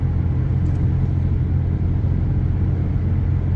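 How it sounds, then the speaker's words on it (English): Semi-truck rolls alongside a car on the road to the right, a loud steady low engine rumble and road roar that stays constant and close, with no speech over it. "Here's the semi-truck to our right"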